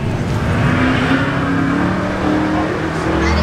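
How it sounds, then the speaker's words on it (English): Chevrolet Nova drag racing car roaring loudly and steadily at a drag strip, a dense engine drone with rising pitch lines throughout, close and continuous with no pauses. "Sean Moeller in the right lane, the Nova"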